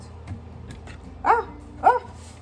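A dog gives two distinct barks about half a second apart, moderately near, in a home kitchen while chicken and mushrooms are being cooked; a low background hum sits underneath.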